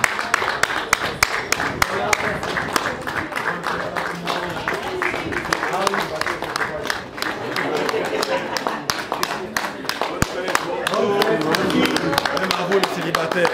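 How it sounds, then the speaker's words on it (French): Applause at the civil wedding of artist Pierrot Ndombasi as the civil registrars enter: dense, steady clapping from a seated crowd lasting throughout, mixed with voices and background chatter. "C'est parti, on applaudit très fort."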